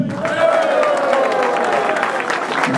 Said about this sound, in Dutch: nog een applaus voor Annemie